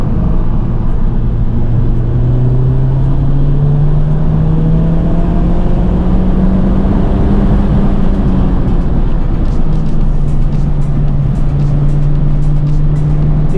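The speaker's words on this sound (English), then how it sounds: "Our tires scrubbed a little bit." Car accelerating hard from inside with traction control left on, a loud steady engine drone rising then settling, with tire noise underneath throughout.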